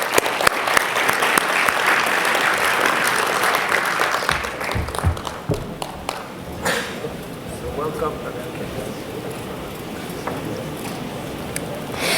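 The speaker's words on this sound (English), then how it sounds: "Let us all give him a round of applause." An audience at the 2019 IHF Awards Ceremony applauds strongly at first, then the clapping thins and fades as a voice begins speaking over it.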